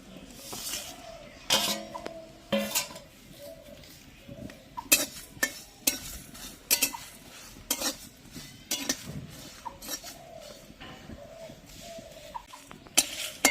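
Black cumin seeds and dried red chillies dry-roasted in a hot pan while making a Bengali jujube pickle, with scattered clinks and scrapes of a spoon stirring against the metal and a faint sizzle throughout.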